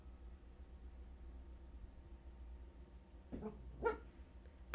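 A dog gives two short barks near the end, after a stretch of quiet background hum.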